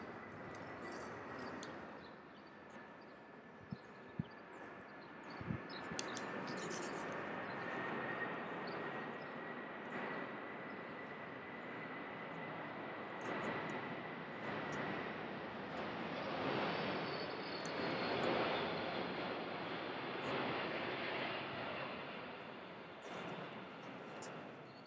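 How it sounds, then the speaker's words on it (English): An airplane passes over the former Indianapolis airport, a faint, distant engine drone with a steady high whine that lingers throughout, with scattered small knocks and rustles nearby. "There's a plane."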